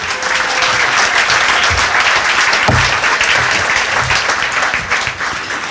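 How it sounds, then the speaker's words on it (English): An audience at a 2015 museum sponsor event claps in a full, steady round of applause that holds at an even level throughout, with a few louder low thumps mixed into the crowd's clapping. "Give them a round of applause."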